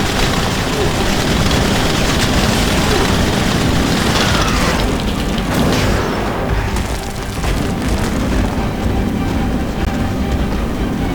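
Loud, continuous booming blasts and rumbling explosions from Suicide Squad game audio, dense and sustained, with voices occasionally mixed in.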